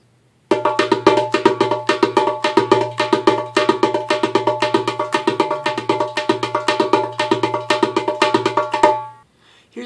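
Fast darbuka drumming in the clockwise split hand technique, a rapid, even stream of crisp hand strokes with occasional deep doum bass hits, played close and loud without talk for about eight seconds before stopping.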